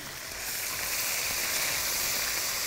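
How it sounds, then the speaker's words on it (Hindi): About a quarter kilo of chicken going into a hot pan for a masala dosa filling, the sizzle swelling in after a quieter start into a steady, loud, hissing fry with no talking. "मैं इसमें चिकन ऐड कर रहा हूँ 1 पाव के करीब"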